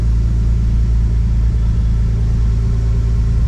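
A Nissan R33 Skyline engine idles at around 1100 RPM, a loud, close, steady low rumble that stays even throughout with no voices.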